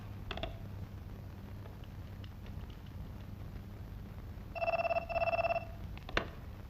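A telephone rings twice in two short trilling bursts in a Hindi-dubbed film scene, fairly close, against a low steady hum with a few faint clicks.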